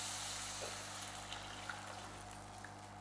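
Water poured from a one-litre measure into a cooking pot for okra rasam with tomato, a soft, steady wash of trickling liquid, fairly faint, with no talking.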